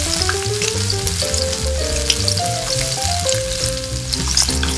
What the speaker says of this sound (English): So let's fry out the fish. So you're hearing the sizzle.